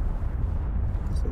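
Deep, steady rumble from a smoking volcano in the survival game Ark, a continuous low roar with no breaks and a faint hiss over the top.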